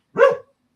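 A dog lets out a single short bark while on patrol in a home, close and fairly loud, lasting well under half a second with no talk around it.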